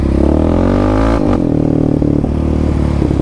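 A Yamaha Raptor 700 ATV fitted with a Dasa exhaust pipe and EHS tune, its engine loud and close, running at a steady drone with a brief dip and rev change partway through.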